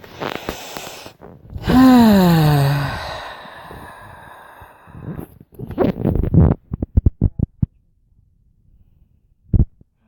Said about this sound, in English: you're going to begin by just taking 3 deep breaths